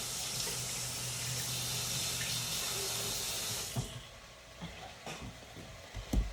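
Tap water from a kitchen faucet rinsing a cut onion and a knife, a steady hissing stream for several seconds that stops abruptly, followed by a few quiet clinks and handling sounds.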